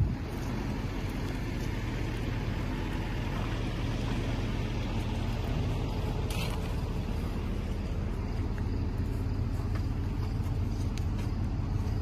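Pickup truck towing a big trailer on the road, producing a steady low drone of engine and road noise that holds at an even level throughout with no talking.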